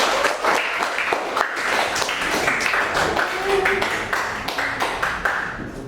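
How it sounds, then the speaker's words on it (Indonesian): Classroom applause for a student named Raditya during a vocational high school programming lesson, a steady wash of many hands clapping for several seconds with scattered voices talking over it. "Kita tepuk tangan untuk Raditya."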